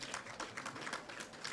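Audience at a primary school quiz event clapping together, a dense, even patter of many hands lasting a moment, moderately distant and fairly quiet.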